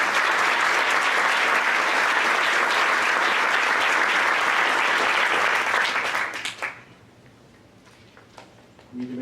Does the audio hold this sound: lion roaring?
no